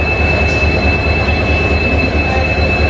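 A passenger train on the Thrissur–Shoranur line in Kerala, India, rolls steadily past nearby, a continuous loud rumble with a high, constant wheel squeal and no talking.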